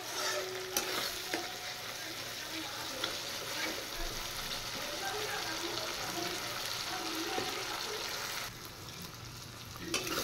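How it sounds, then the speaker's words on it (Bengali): A spice masala with mustard paste fries in oil, a steady sizzle broken by scraping stirs and spatula knocks. It is moderately quiet and continuous, fading slightly near the end. "মশলা ভাজা হয়ে গেছে, তেল ছেড়ে দিয়েছে।"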